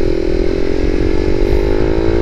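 A 2020 Suzuki Raider 150 Fi motorcycle in matte red runs with a steady, close engine drone that holds an even, continuous tone for the whole stretch, with no speech over it.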